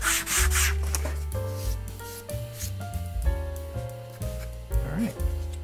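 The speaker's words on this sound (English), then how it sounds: "you can sand right down to it and you're not impacting the ribs itself" Sanding of a balsa model aircraft wing's wooden leading edge, taken down to a line of tape. The rubbing is close and continuous and sits under a steady tonal hum that changes pitch in steps.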